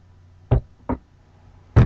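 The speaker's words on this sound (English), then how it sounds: "Closed drawer. These drawers don't close very well." A wooden drawer that does not close well being pushed shut, three short dull knocks, two close together and a louder one after a pause, heard close by.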